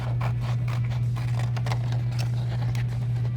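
Scissors snip through paper in a quick, repeated rhythm of small scraping cuts, close up, over a steady low electrical hum.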